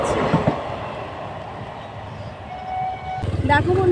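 A train rolls past a closed level crossing in Bengal, a steady rumbling wash of wheels on track that stays loud throughout, with a sharper burst of clatter near the end.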